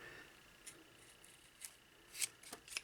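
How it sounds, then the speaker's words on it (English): Scissors snip through paracord while a braided Jeep Wrangler door pull is being finished, a few faint, crisp, close-up clicks and cuts spaced irregularly over a couple of seconds. "We're going to take the scissors, cut it off kind of close."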